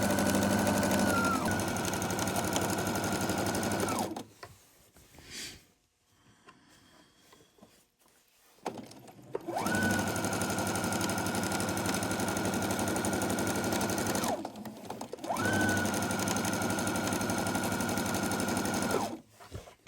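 A sewing machine stitches floral and solid quilt fabric pieces for a nine-patch block, whirring loud and close in long continuous runs broken by short pauses.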